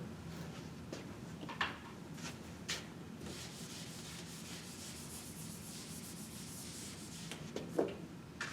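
An eraser rubs across a board holding a valve timing diagram, producing a soft, steady scrubbing hiss with a few louder knocks and swipes scattered through it.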